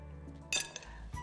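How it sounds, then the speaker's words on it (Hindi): Salad tossed gently in a bowl with olive oil dressing, giving a few light clinks and soft rustling knocks against the bowl, close and moderately quiet, with no talking. "तो अब ये हल्के हाथ से इस सैलेड को करें टॉस।"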